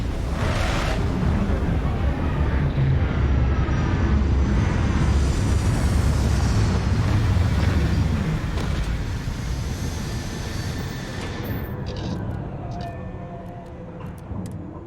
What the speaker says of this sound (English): Landing struts primed, retros firing.